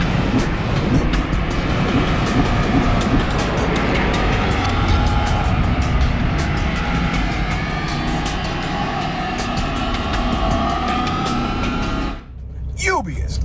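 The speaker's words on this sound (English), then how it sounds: "I got the truck running." A truck engine runs steadily at a driving-practice session, its continuous low rumble and broad road-like noise holding for about twelve seconds before cutting away sharply.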